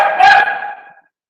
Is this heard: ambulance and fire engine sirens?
no